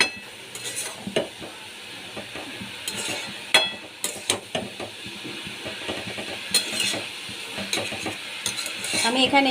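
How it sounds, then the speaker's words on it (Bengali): Cabbage fries with chana masala in a pan, a continuous sizzle under frequent scraping and clinking strokes of a stirring utensil, with a few brief spoken words. "দশ মিনিটের মতো ভেজে নেব"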